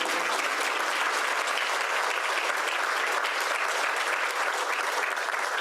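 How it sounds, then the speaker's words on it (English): Audience at a Rotary club meeting breaks into steady, sustained applause, a dense wash of clapping from a roomful of people that holds evenly throughout without voices rising above it. "That deserves a round of applause"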